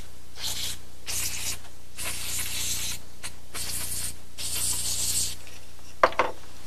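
Several short bursts of aerosol contact-cleaner spray hiss close by into guitar amplifier tube sockets, separated by brief pauses, followed by a couple of small clicks at the end.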